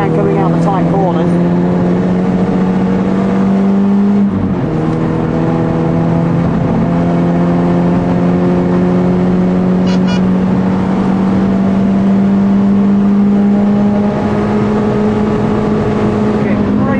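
A car engine drones loudly from inside the cabin on the Bedford West race track, pitch climbing steadily through a gear, dipping briefly at a shift and rising again, with an instructor talking over it.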